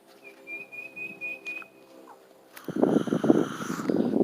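A bird gives a long, steady whistled call from directly overhead in a cemetery, clear and sustained before a sudden burst of loud rustling, wind-like noise takes over.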